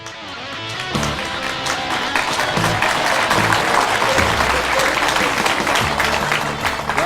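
A game show studio audience applauds and cheers in a dense, steady roar of clapping that swells in after a quiet first second and carries on loudly throughout, with voices faintly mixed in.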